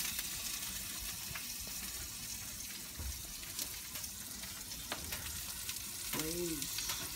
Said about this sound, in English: Here we have the scallops boiling underneath the boiler.